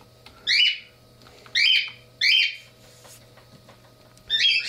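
A pet bird squawks loudly and repeatedly at close range indoors, four sharp harsh calls in a roughly regular rhythm with quiet gaps between.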